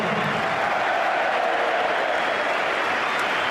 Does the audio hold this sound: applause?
yes